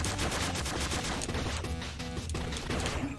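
In the side-scrolling action game Cyber Shadow, a boss fires a rapid burst of deathly rings, producing a dense, loud barrage of repeated percussive blasts layered over driving game music without pause.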